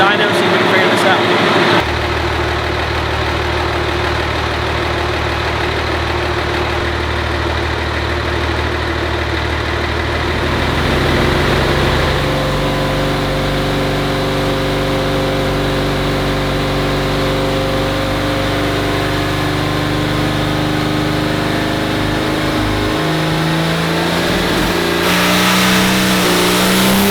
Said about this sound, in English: we're going to make another pass on the dyno, see if we can figure this out